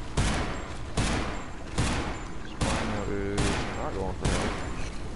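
Gunfire in a dinosaur video game where a Spinosaurus fights with a shotgun against a T-Rex: a series of loud, close shots or bursts at roughly one-second intervals, each sharp crack followed by a rumbling tail.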